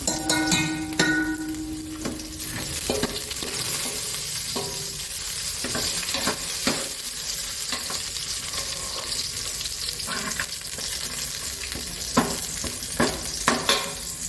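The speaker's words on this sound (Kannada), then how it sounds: "ಸಾಸಿವೆ ಮತ್ತು ಸ್ವಲ್ಪ ಬೆಳ್ಳುಳ್ಳಿ ಮತ್ತು ಒಣಮೆಣಸಿನ್ಕಾಯಿ ಹಾಕಿ ಒಗ್ಗರಣೆ ಮಾಡ್ಕೊಂಡ್ಬಿಡ್ತೀನಿ" Mustard seeds, garlic and dried red chilies crackle and sizzle in hot oil for tempering, steady frying hiss with sharp pops and occasional stirring scrapes throughout.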